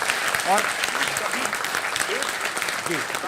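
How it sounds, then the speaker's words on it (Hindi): A crowd breaks into applause for a driver praised for safe driving, dense clapping running throughout under scattered voices and a few cheers. "तो इस बात के लिए भी तालियां होनी चाहिए"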